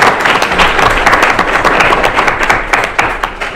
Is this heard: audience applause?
yes